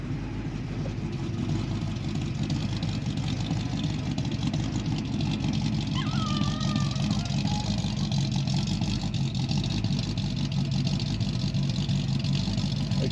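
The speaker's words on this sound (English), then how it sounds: "We'll let it warm up a little bit here." A 1966 Ford Mustang GT, dusty from sitting, idles after a cold start with a deep, steady rumble that stays loud and close throughout, with no change in pace.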